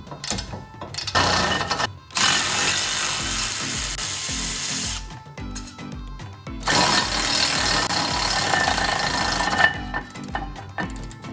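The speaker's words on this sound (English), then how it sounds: "Now we can remove the 2 bolts that hold the caliper on." A power impact tool on a car's brake assembly zips out two caliper bolts in loud, sustained whirring bursts separated by short pauses, with clattering mechanical noise between runs.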